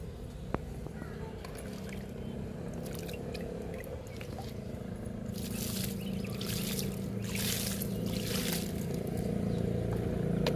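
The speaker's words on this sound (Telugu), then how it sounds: "ఇప్పుడు వాటర్ ఇచ్చేద్దాము." Water poured onto a potted jasmine plant, a soft, steady trickle that grows slightly louder and splashier midway, heard up close.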